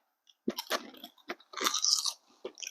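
Homemade mushroom rice crackers crunch loudly in close-up, with a series of sharp bites and brittle chewing crunches in an irregular rhythm against a quiet background.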